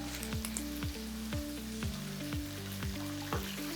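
Chicken wings with soy sauce and garlic powder sizzle steadily in a pan, a constant frying hiss with a regular series of soft stirring knocks roughly every half second, no voices.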